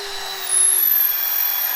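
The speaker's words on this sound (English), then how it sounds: "if you ever clog a drill bit flute, you just draw out, get all the debris out, and then re-drill the hole" Power drill boring into wood with a drill bit, a short whine that jumps in loudness and rises steadily in pitch as the motor spins up, close and alone.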